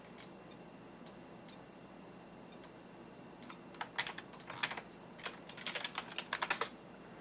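Computer keyboard keys tapped while entering commands into a command prompt, quiet scattered clicks at first that build into quicker, louder bursts of typing toward the end, close and alone.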